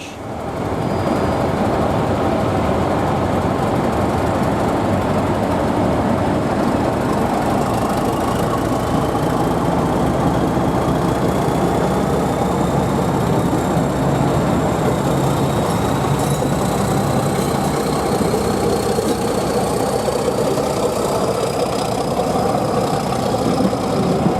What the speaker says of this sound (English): Groombridge 31430 departs for Eridge.